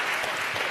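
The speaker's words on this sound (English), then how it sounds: "Let's give her a round of applause." Dense audience applause at a Queens town hall hosted by the mayor, a steady wash of many hands clapping close and loud throughout, with no talk over it.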